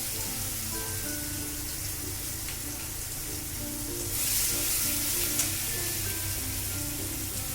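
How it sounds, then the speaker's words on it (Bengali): Garlic paste frying in oil in a pan for a mustard-oil parshe fish dish, a continuous close sizzle that swells briefly midway, with no talking. "কাঁচা রসুনটাকে আমি ভালো করে ভেজে নিয়েছি"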